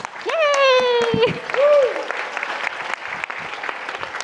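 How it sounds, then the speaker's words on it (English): A conference audience in Scotland breaks into a round of applause after a screened video. A voice lets out a drawn-out cheer and a second shorter whoop over the start, then the clapping carries on steadily at moderate distance. "Let's give him a round of applause"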